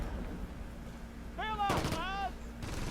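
A tank's heavy machine gun in the Close Combat game fires a short burst of sharp cracks amid a steady low battlefield hum, with whistling tones rising and falling around it.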